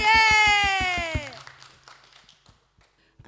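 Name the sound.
children clapping hands at Sunday school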